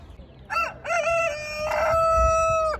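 A rooster crows loudly and close by at a chicken market in Karaman, one long drawn-out crow with a choppy start, over low market background noise.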